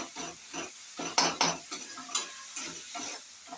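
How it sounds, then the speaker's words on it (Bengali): A salted spice mixture is stirred in a pan, scraping and sizzling in short repeated strokes with a rhythmic pattern, close and moderately quiet. "একটু নেড়ে নেওয়া হলো।"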